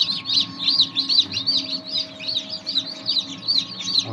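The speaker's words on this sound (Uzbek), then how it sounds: "Mana jo'jalar. Mana jo'ja chiqishni boshladi." Newly hatched chicks inside an incubator, on day 19 of hatching, give loud, rapid, continuous high-pitched peeping close by, with a faint steady machine hum underneath.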